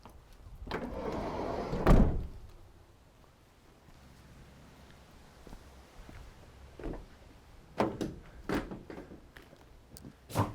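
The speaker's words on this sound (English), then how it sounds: "side loading door" A 2018 Ford Transit Custom van's side sliding door slides and thuds shut early on, followed by quieter rattles and a few sharp metallic clunks near the end.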